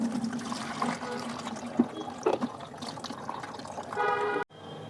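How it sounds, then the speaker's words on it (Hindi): Liquid plant fertilizer solution is poured through a strainer in a terrace garden, a close trickling and dribbling of water with a few small knocks, no talk, ending abruptly. "इस घोल को हम छान लेते हैं"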